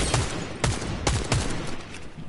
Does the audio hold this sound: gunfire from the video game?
yes